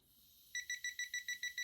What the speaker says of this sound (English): let's see if we can go ahead and get it into an alarm status to make sure it's working properly